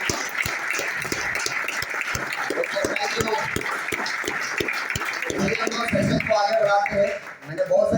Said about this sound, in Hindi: तो उनके लिए जोरदार ताली होता है।